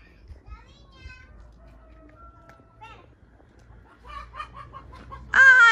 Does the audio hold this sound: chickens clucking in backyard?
yes